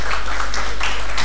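Audience applause for a cardiologist at a diabetes and physical activity lecture, a dense steady wash of many hands clapping throughout, fairly loud and unbroken.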